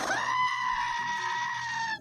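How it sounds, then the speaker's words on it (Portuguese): A goat lets out one long, loud, wavering scream that holds for about two seconds and then cuts off. It is the famous meme goat cry later used in Moana 2, and it is heard up close with nothing else behind it. "ele é de um meme muito famoso, em que uma cabra solta e se berra"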